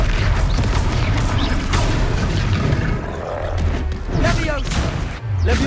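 Combat spell effects from the video game Hogwarts Legacy, including the Levioso spell, land as loud booms, thuds and whooshing impacts over a rumbling low bed, with a voice speaking briefly among the clashes.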